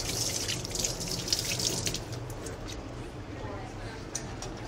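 Tap water runs steadily into a kitchen sink during hand washing while a turkey is being carved, a continuous close hiss of moderate loudness with background talk.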